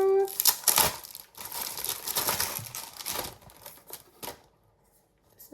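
Packaging for a new pink iPad keyboard cover being torn open, close and crisp, with loud crinkles and rips at the start that settle into softer rustling and then near silence.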